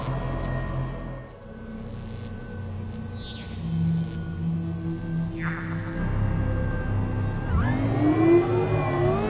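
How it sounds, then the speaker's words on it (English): An animated space rover's engine pushed to full thrust on a mysterious planet, a steady whirring, rising drone that swells and climbs in pitch near the end, with no talking. "Turn your engine full thrust!"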